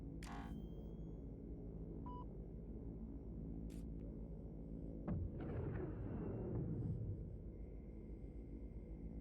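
An AGM missile fired at a target in the aerial combat game Angel Of Death: a quiet hum and a few beeps, then a whooshing launch followed by a deep rumbling blast that trails off beneath a steady engine drone.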